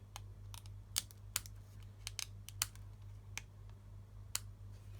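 Scissors trimming a paper card, a scattered series of small, crisp, faint snips and ticks spread over a few seconds against a quiet background hum.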